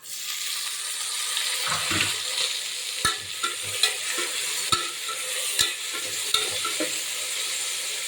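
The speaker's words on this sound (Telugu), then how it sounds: "ఇప్పుడు టమాటాలు వేసుకోవాలి, సన్నగా తరిగి పెట్టిన టమాటాలు వేసుకోవాలి." Finely chopped tomatoes sizzle steadily in hot oil in a pan, with a continuous frying hiss and occasional sharp scrapes and taps of a spoon as they are stirred.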